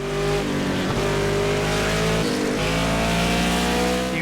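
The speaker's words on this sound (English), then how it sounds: "We go around this corner and just listen to the car engines" Race car engines in the Project Cars racing game roar loud and steady through a corner, pitch shifting as the cars brake and accelerate, with faint tire squeal and no talking.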